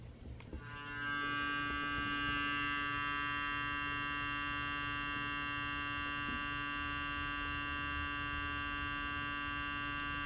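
An Oral-B iO electric toothbrush runs on its sensitive setting, starting after a brief click and holding a steady, even electric hum with a faint high whine for about nine seconds, close and alone.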